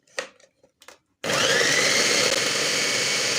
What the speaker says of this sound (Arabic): نيجي بقى نفرم التوم بتاعنا